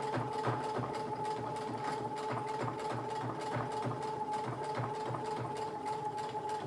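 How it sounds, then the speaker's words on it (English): A sewing machine stitches a nose strip onto a pleated fabric face mask, with a fast, even mechanical chatter and rhythmic needle thumps running steadily at close range. "the first round I'm sewing, I will be sewing on this side of the nose strip"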